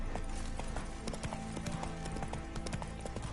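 Roach the horse gallops in The Witcher 3, rapid rhythmic hoof clip-clops close and loud across the whole stretch, with no speech.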